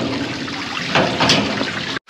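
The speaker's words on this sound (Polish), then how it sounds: "Woda leci jak szalona" Water rushes steadily nearby from a home water system with a pump, a continuous noisy flow that swells slightly midway before cutting off abruptly at the end.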